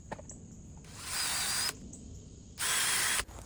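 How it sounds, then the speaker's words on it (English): A power drill whirs in two bursts of just under a second each, drilling starter holes in wood, separated by a short quiet pause, close and fairly loud. "when I'm drilling these starter holes, I am not drilling all the way the length of the drill bit"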